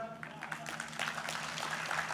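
Audience applause at the Bigg Boss OTT Season 3 grand launch event, faint and crowd-wide, building slightly after the first second, with a low hum and some voices mixed in.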